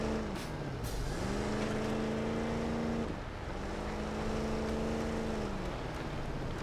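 A vehicle engine in the Halo video game hums with a thin, toy-like whine, like a small RC truck. The steady pitch bends down and back up in two long passes, close and continuous.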